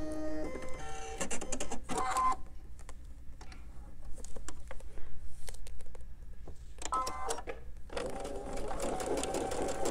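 A Brother sewing machine stitching a quilt in steady mechanical bursts, loud and close, with a running whir around the start and again near the end and quieter clicking in between.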